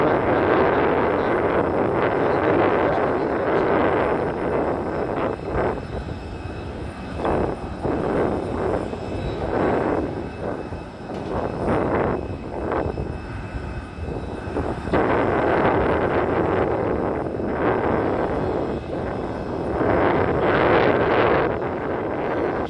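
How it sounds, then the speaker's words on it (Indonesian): Airport apron beside a Scoot Tiger Air Airbus A320, with a steady loud engine and machinery roar and wind buffeting the microphone as the jet bridge pulls back from the aircraft; no one speaks. "Terdengar suara garbarata mundur"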